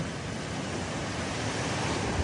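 Ocean surf breaks along a Hawaiian shoreline in a continuous, broad wash of crashing waves, with wind buffeting the microphone and no voices.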